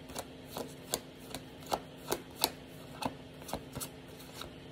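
A deck of tarot cards being shuffled up close, a steady run of crisp riffling snaps at roughly even intervals, with no talking.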